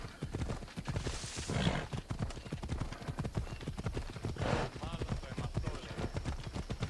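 Steady clip-clop of horse hooves at a walking rhythm in the video game Assassin's Creed Odyssey, close and continuous, with a voice speaking over it and a brief whinny.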